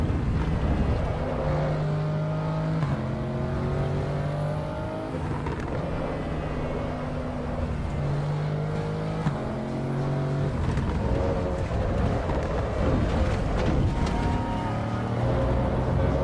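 A car engine in a driving simulator game hums and revs through repeated gear-like pitch steps, rising and dropping across a long drifting run, steady and fairly loud throughout.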